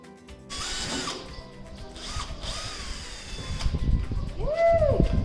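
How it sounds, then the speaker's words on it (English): A power drill bores a pilot hole into wood for a table leg, a steady whirring drone that rises and dips as it cuts, with cattle mooing nearby in the background. "let's see how my first hole goes"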